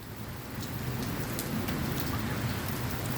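Steady rain during a Midwest thunderstorm, a dense, even hiss of drops hitting surfaces, with a few sharper nearby drips standing out, sustained and unbroken without speech.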